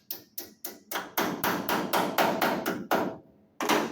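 Hammer blows on sheet metal while bending over a piece of 1960s car body panel, about a dozen loud, close, ringing strikes in a steady rhythm, with one short gap before the final hit.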